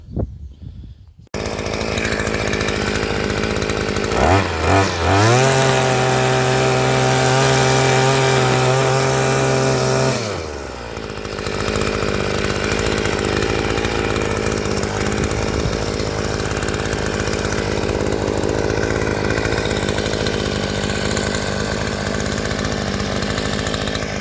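A Westfalia brush cutter engine fitted with an Expand-it tiller attachment runs loud and close, a steady buzzing drone with a brief lower idle dip partway through, then holding at full revs to the end.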